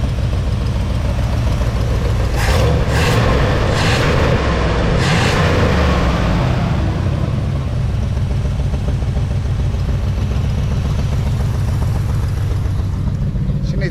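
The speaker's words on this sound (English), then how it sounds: "The old motor sounds good." An old Ford 460 V8 needing a carburetor runs roughly, a steady loud low rumble with a few sharp revs near the start before settling into an uneven idle.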